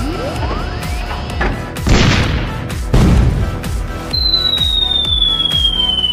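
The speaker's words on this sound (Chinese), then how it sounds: "这炮弹的威力好大啊" Artillery shells burst in an animated war scene: a rising whistle, then several heavy booming explosions with crashing debris, loud and close, followed by a long descending shell whistle over continued rumbling fire.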